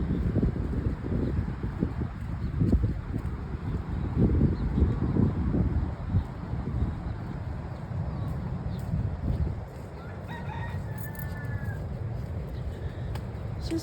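Breezy wind on a morning walk outdoors, a steady low rumbling buffet against the microphone that gusts louder and softer throughout, with faint bird chirps briefly near the end.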